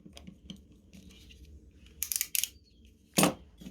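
A Hultafors snap-off utility knife's auto-lock slider being pushed, giving a handful of sharp, close clicks and ratcheting snaps over a few seconds.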